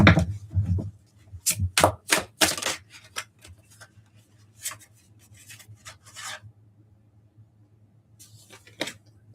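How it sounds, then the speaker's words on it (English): A deck of tarot cards being shuffled, giving bursts of papery riffling and soft rubbing, loud at the start, then sparser, with a pause before one last shuffle. "I have been shuffling and shuffling this"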